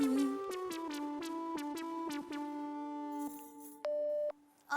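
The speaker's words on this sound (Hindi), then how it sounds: "घर का फोन बिजी आ रहा है" A home telephone line returns a busy signal when dialed, heard as a string of repeated electronic tones in a regular on-off rhythm, fairly quiet and alone, ending with a longer sustained tone.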